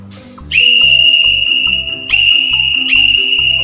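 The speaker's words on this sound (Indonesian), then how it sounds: "jadi itu tadi praktek sambutan Morse dengan peluit" A whistle blows loudly in distinct long and short blasts, a Morse-like pattern: one long tone, then two shorter ones, over a faint rhythmic background.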